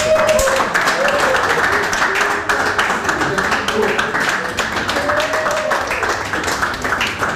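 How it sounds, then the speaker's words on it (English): Audience applause after a film project internship announcement at a grand finale event, steady dense clapping throughout with voices and chatter mixed in underneath. "So a round of applause."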